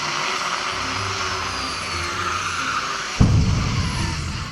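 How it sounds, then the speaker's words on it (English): A Formula 1 car slides across the track into the wall, a sustained engine and tire sound ending in a sudden sharp impact thump followed by lingering scraping noise. "Stroll, wandering over to the left-hand side, puts his teammate into the wall"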